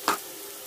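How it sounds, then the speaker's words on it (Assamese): Ginger, garlic and onion with spices frying together in a pan: a short sizzling burst at the start, then a low, steady hiss of oil close by. "এই আদা নহৰু আৰু পিঁয়াজখিনি একেলগে ভাজি ল'ম কেঁচা গোন্ধটো যোৱালৈকে"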